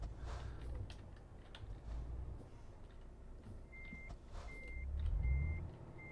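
Truck reversing beeps in the Euro Truck Simulator driving game, a row of four evenly spaced electronic beeps in the second half over a low engine rumble, with quiet keyboard tapping in the background.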